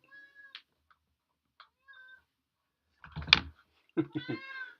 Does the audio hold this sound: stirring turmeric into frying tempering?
no